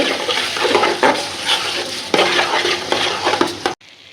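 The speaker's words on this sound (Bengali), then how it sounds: "চালটা সুন্দর করে ভাজা ভাজা করবো" Dry rice grains fry in a pot for chicken biryani, stirred with a utensil that scrapes and clinks against the metal in repeated strokes over a steady sizzle, close up with no talk, ending abruptly.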